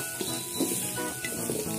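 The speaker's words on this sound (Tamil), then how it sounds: "ஸோ இதுக்கு முன்னாடி போட்ட வெஜிடேபிள்ஸ் எல்லாமே நல்லா வதங்கிடுச்சு" Vegetables being stirred and sautéed in a pan for vegetable noodles, a close, steady sizzle broken by short scraping stir strokes, with no talking.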